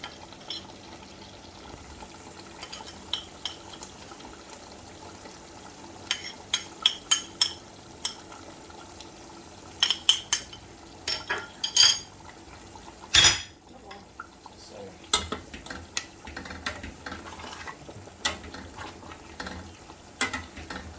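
Carrots and green beans dropping into a pot for macaroni jollof, with scattered utensil clinks and knocks against the pot over a quiet simmering background, growing busier midway.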